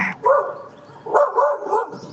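A nearby dog barks twice in quick bursts, loud and clear with no talk over it.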